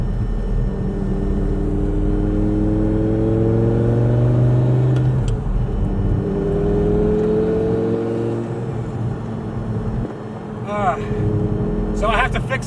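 A Lamborghini engine drones loudly while driving, rising and falling in pitch through gear changes, close and continuous, with a voice talking over it near the end.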